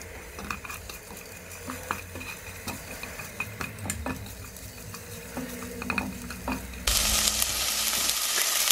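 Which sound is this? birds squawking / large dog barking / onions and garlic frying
onions and garlic frying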